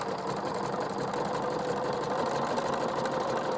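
A sewing machine with a braiding foot stitches a pipe cleaner along a fabric edge, a steady close motor hum with a fast even needle clatter running throughout.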